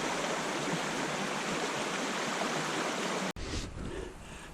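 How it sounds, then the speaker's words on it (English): A creek flows below a hiking trail, giving a steady, full rushing hiss of running water that fills the whole stretch and then briefly breaks off before continuing more softly. "There's a creek flowing down there."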